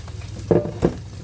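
Food dropped into a hot frying pan during outdoor camp cooking, giving two quick close sizzling bursts over a low steady background hum.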